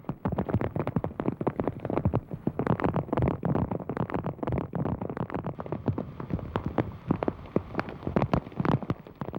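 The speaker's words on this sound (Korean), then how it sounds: "하지만 빗소리 외엔 아무 소리도 들리지 않았다." Steady rain falls in Cambodia, a dense, continuous patter of close drops hitting surfaces with many sharp splashes, moderately loud and heard alone with no voices.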